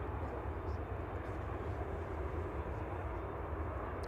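Airliner taxiing at Manchester Airport, a steady, dense engine rumble and roar holding constant throughout, heard from a distance outdoors.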